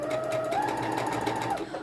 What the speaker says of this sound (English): I'm going to sew on the trace line